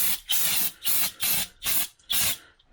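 Five bursts of brake fluid hissing from a brake bleed valve on a 1979 C3 Corvette, each about a quarter second long, separated by short silences, close and fairly loud.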